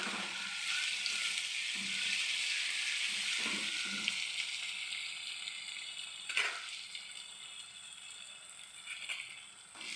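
Garlic paste sautéing in a pan after the onions, a steady close sizzle and crackle throughout with a few stirring scrapes and knocks.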